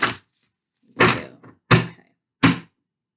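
A tarot card deck being shuffled by hand: four separate soft, dull thumps of cards knocking together, spaced with short silences between them, close and alone.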